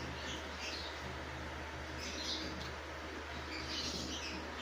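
Faint, scattered high chirps from pet birds bred for aqua and blue colour mutations, a soft continuous twittering over a quiet room with steady low hum.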